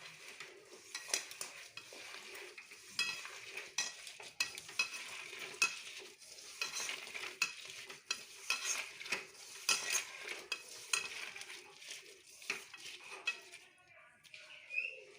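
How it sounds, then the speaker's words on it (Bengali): Raw fish is worked together with turmeric and salt by hand in a bowl, giving a close run of soft, wet squelching and kneading sounds in irregular bursts, with faint clinks now and then. "এবার আমি এটাকে কচলে মেখে নেব।"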